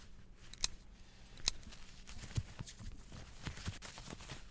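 A person imitates horse hooves clip-clopping by hand, producing a few sharp, spaced knocks over a quiet, faintly noisy indoor background with no speech.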